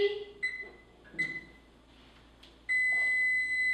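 An oven's electronic indicator signals that preheating is done with a few short high beeps, followed by a longer sustained tone in a quiet kitchen where bread is being baked.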